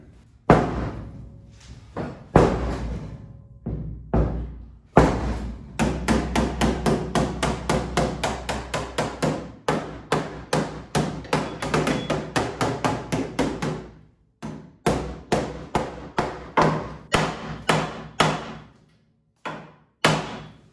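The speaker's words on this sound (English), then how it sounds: "maybe we get a hammer and start hammering from the outside" Loud, rapid metallic hammer blows on a Chevelle's sheet-metal body panel, delivered in long steady bursts with short pauses between them, close by and ringing.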